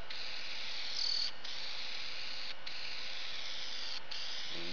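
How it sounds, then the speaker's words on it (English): A spray gun applies polyurethane finish to a cornhole board, giving a steady close hiss in repeated passes with brief breaks between strokes and no talking. "then you're going to start spraying your polyurethane"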